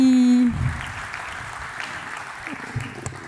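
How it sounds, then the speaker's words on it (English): Audience at a European powder metallurgy industry conference plenary applauding newcomers, the clapping starting after a brief tonal sound and continuing as a moderate, fairly distant patter of many hands for a few seconds. "So I propose we applaud the newcomers and we support them in the event."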